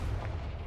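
A heavy, booming blast from the Confringo fire spell in a video game, one short loud rumbling burst with dense low end and no separate onset.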